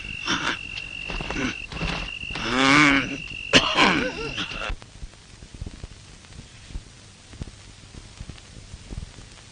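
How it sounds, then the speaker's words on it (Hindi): An elderly man coughs and clears his throat in a few rough, close bursts over the first half, after which only faint room noise remains. "बाबा खांस रहे हैं।"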